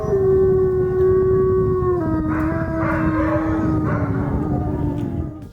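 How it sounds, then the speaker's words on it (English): Wolf dogs of varying wolf content howl together at the Yamnuska Wolf Dog Sanctuary, several long, wavering voices overlapping and shifting pitch, loud and close, with no talking. "the Yamnuska Wolf Dog Sanctuary is home to 33 wolf dogs of varying wolf content"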